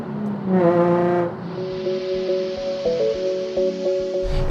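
Drift car at the Redstar drift track revving hard, with rising and falling engine harmonics, a sustained high wail and a few sharp throttle blips, loud and close with no talking.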